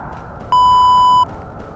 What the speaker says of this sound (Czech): Tady máme upozornění na vysoké větry.